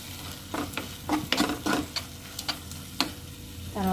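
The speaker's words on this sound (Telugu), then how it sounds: "ఈ ఆనియన్ పేస్ట్ అంతా టమాటా ముక్కలకు పట్టే వరకు మిక్స్ చేసుకోవాలి." A spoon stirs onion paste into tomato pieces in a hot pan for a brinjal masala curry, with irregular scraping strokes over a soft sizzle, close and moderately loud with no talking.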